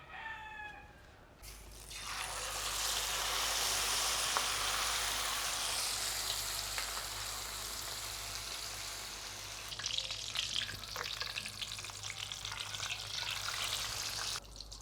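Filipino breakfast food hits a hot pan outdoors and sizzles loudly and steadily for several seconds, with a rooster faintly crowing in the background.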